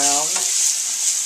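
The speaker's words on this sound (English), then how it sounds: "I'm going to take the onion and the garlic, and I'm going to put it back in." Onion and garlic sizzle in a hot pan alongside browned tofu, a steady bright hiss running throughout, with a brief voice at the start and a short stirring scrape near the end.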